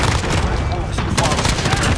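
Rapid gunfire in the Call of Duty Shipment map, dense overlapping shots and bursts filling the moment loudly, with game noise and brief voice mixed in.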